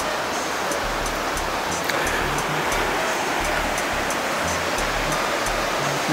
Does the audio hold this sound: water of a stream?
yes